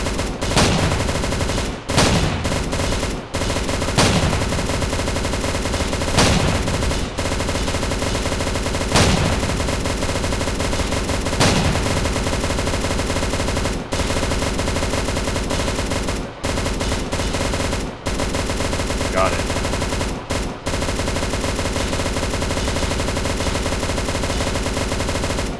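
Automatic gunfire in the Roblox game Riot Control Simulator: loud, continuous rapid bursts that run almost without pause, broken only by brief gaps between volleys.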